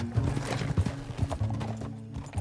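A horse in Red Dead Redemption 2 clip-clops with steady hoofbeats and lets out a whinny, close and fairly loud over a low ambient game bed.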